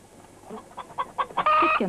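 Hens cluck in a rural Eritrean home setting, a run of short rising clucks ending in a longer, loud squawking call close to the listener.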